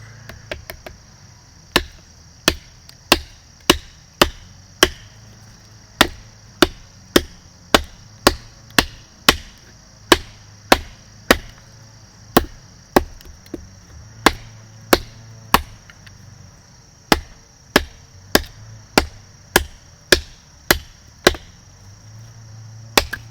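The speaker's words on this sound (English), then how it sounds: "First up, we're gonna chop a small piece of wood." A K-Bar style knife chops a small piece of wood, about thirty sharp, close thwacks at a steady, slightly irregular pace of roughly one per second, each crisp hit standing alone against near silence.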